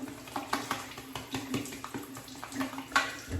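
Water runs steadily into a sink nearby, splashing and trickling with small irregular surges.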